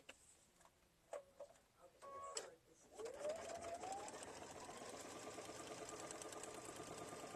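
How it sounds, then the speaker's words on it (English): Sewing machine stitching a straight line on quilt fabric for a chevron block, a steady rapid mechanical whir and ticking that runs continuously after a few handling clicks, close and fairly quiet. "And then I'm just going to sew that down."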